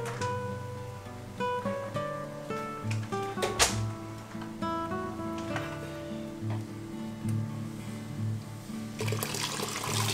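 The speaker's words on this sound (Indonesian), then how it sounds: "Kemudian kita buang dulu air yang pertama dan terus masukkan lagi air yang berikutnya" Cooking water drained from a pot after boiling banana blossom for a snakehead fish dish, then fresh water poured in, giving a continuous gurgling, splashing flow with a faint hum and clinks underneath, close by and without speech.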